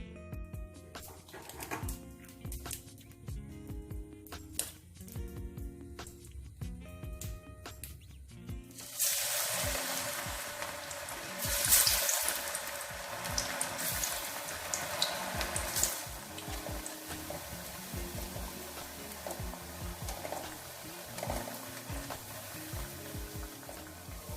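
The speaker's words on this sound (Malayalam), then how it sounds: "ഇത് നമുക്ക് വറുത്തെടുക്കാം" Hand-flattened vada made from amrutham powder dough with onion is lowered into hot oil on a low flame. Quiet handling clicks give way to a loud, steady sizzling and bubbling that carries on throughout.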